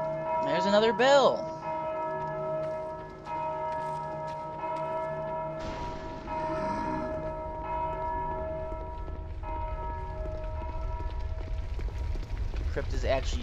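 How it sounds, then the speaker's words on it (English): A bell in the video game Dark Souls II rings out with long, sustained metallic harmonics. A sharp strike opens it, tones linger and overlap, and rumbling game noise builds underneath. "There's another bell."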